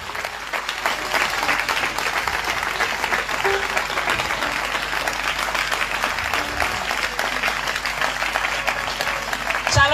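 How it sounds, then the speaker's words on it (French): A church congregation at a revival testimony festival in Grand-Bassam applauds steadily and loudly, a dense continuous clapping that holds for the whole stretch. "Acclamons Jésus"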